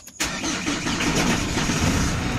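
A Chevrolet Colorado 4x4 starts up with the clutch fully pressed: a quick crank catches almost at once into a loud, steady close-up engine roar that holds to the end.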